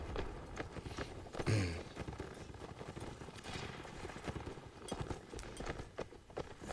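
Horse hooves clip-clopping in the Mount & Blade Napoleonic Wars video game during a line battle, a faint irregular clatter of several hoofbeats under soft background din, with a brief louder thump near the start.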